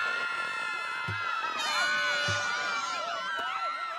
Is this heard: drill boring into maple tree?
no